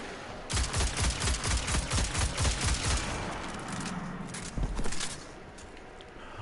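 Shotgun blasts from Destiny 2, a steady series of loud, evenly spaced booming shots, followed by a pause and a final pair of blasts, with no talking.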